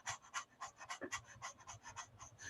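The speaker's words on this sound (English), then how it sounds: "So breath of fire is very fast." Breath of fire, a rapid breathing exercise, comes as quick, rhythmic forceful exhales through the nose, about five per second, close and fairly soft, with no talking.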